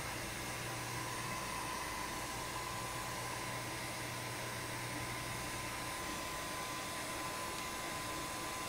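A heat gun blows steadily to melt embossing powder for embossed bows, a continuous loud airy whoosh with a low hum, unbroken for the whole stretch.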